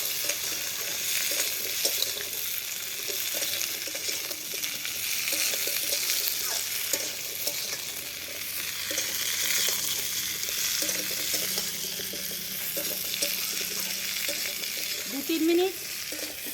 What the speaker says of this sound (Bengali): আমি সবজিটা ভেজে নেব।